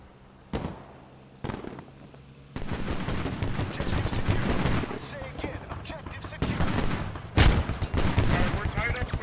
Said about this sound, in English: And now the 50 cal from the MAT V turns on it.